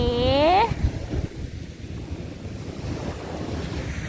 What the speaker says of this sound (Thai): รับลมชมวิว ทะเลที่หาด แสงจาน หาดสุชาดา